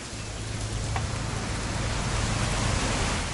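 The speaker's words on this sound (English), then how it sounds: "It's gonna rain the whole weekend," Steady rain falls throughout a scene in the video game What Remains of Edith Finch, forming a constant, even wash of noise with a faint low hum beneath it and no talking.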